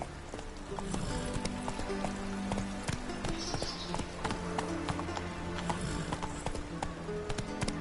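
Video-game horse galloping in The Witcher 3: a rapid, steady clip-clop of hooves with a brief whinny, over faint background ambience.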